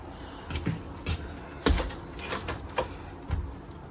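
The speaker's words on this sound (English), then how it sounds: "We're going to unlock them, slide them apart." Patio doors on a 2025 Cruiser RV Stryker ST2916 toy hauler being unlocked and slid open, giving a series of sharp clicks and clunks followed by softer rolling, sliding knocks, close and moderately loud, with no talking.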